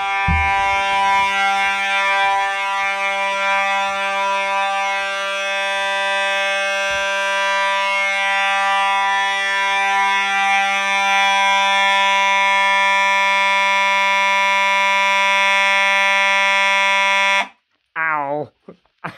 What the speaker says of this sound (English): It's the mechanical horn, so it is loud.